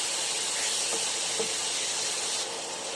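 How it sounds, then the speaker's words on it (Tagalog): Garlic and onions sautéing in a pan for adobo give a steady, soft sizzling hiss that stays even throughout, fairly quiet with no voices. "Gisa lang natin."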